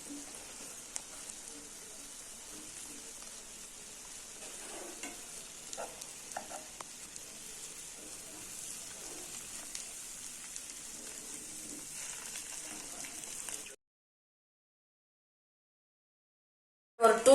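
Eggs frying in a pan after being flipped for an egg pepper gravy, a soft steady sizzle with faint stirring scrapes, then sudden silence before a brief loud knock at the end.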